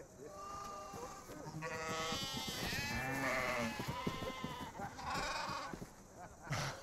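Sheep bleat several times in a wavering, drawn-out way across the scene, fairly close and moderately loud, with people talking around them.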